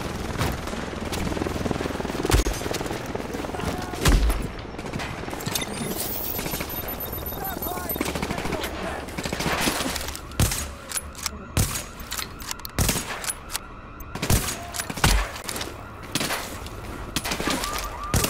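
Rapid bursts of gunfire in The Division's Dark Zone, with machine-gun rattles and single shots cracking over game noise while someone talks throughout.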